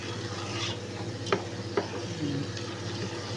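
Rice shallot being stirred in a pan, a soft scraping of a utensil over a steady low sizzle, with a couple of sharper taps against the pan, close and quiet.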